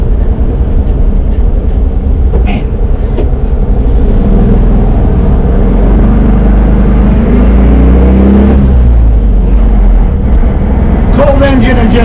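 A 1965 VW Bus under way, with a loud, constant low engine drone and road rumble heard from inside the cabin, rising slightly as it revs, while people talk over the noise.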